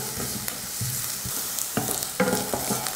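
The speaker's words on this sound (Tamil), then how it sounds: "வெங்காயம் நல்லா வதங்கிருச்சு." Onions sautéing in a frying pan with garlic and ginger, a steady close sizzle with intermittent scraping and stirring knocks throughout.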